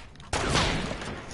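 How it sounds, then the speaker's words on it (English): Burst of video game gunfire aimed at the player, a dense rattling volley starting abruptly after a brief quiet lead-in and continuing loud and steady to the end. "Oh my god, you trying to shoot me!"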